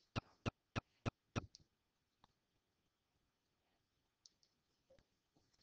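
A computer mouse is double-clicked to plot points on a graph: a brisk burst of five sharp, close clicks, then a few faint scattered ticks in near silence.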